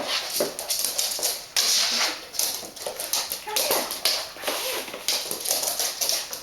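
A dog whimpers and whines repeatedly while its hair is being brushed, close and steady, with soft brushing taps and a short spoken command.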